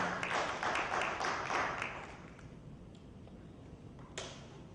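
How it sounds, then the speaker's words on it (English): A small crowd claps for a couple of seconds, the applause fading to a quiet room with a single sharp tap near the end. "Give a round of applause, please."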